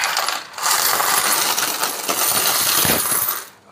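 Saved coins, a year's worth of collected change, are poured out in a loud continuous metallic jingling cascade with a short pause near the start.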